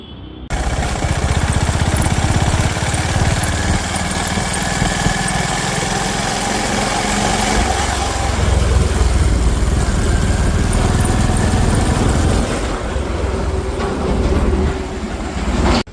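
A Honda CB350RS motorcycle engine runs steadily at a service showroom, giving a continuous low rumble with a constant loud level and ambient workshop noise around it, and no speech.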